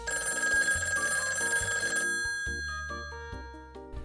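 A telephone rings with a bright electronic ringtone melody over a low repeating bass pattern, steady and fairly loud throughout.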